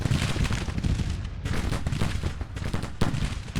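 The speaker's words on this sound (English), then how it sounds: "Let's have these cannons continue to waylay out there." Cannon artillery fires in an American Civil War strategy game set in a fictional Arkansas campaign, a dense run of rumbling booms and overlapping blasts that rolls on without pause and with no talking.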